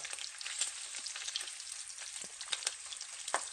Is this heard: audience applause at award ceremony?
no